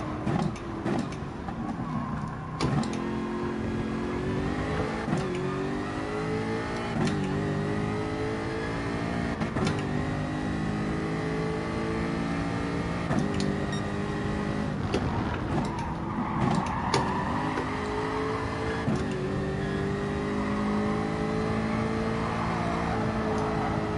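A race car in a racing video game laps the track, its engine note climbing and dropping through repeated upshifts and revs, a steady close-up drone lasting the whole stretch with no talk.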